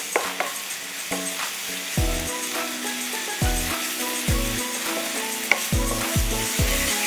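Apple pieces fry in butter in a pan, a soft continuous sizzle broken by repeated scraping and clacking of a spoon stirring against the pan, close up.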